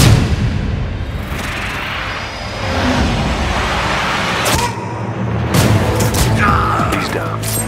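A sniper rifle from Sniper Ghost Warrior 2 fires loud, booming shots, heavy reports with echoing tails over a dense cinematic background, several sharp cracks spaced a few seconds apart.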